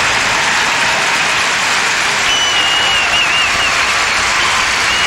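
A large arena crowd applauds at a figure skating pairs event, a dense, loud, continuous roar of clapping with no break, a faint whistle rising briefly within it.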